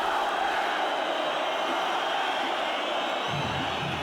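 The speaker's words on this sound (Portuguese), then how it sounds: "Olha a torcida do Atlético, mostrando que ainda leva fé no time." Supporters of Atlético Paranaense fill Arena da Baixada during a 2007 Campeonato Brasileiro match against Corinthians, a distant, continuous roar of crowd noise that holds steady throughout.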